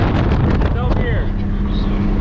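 A 1986 Nissan Z31 300ZX fitted with coilovers is driven fast on a road, with a loud, continuous roar of engine and wind buffeting and a voice faintly under the noise.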